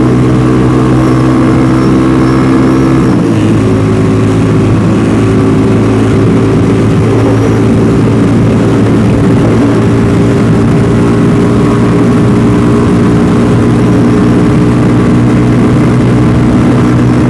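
A Venom X22R motorcycle cruising in fourth gear at over 50 on a Sunday ride, a loud, steady droning engine note with constant wind rush, one brief shift in pitch early on, no talking.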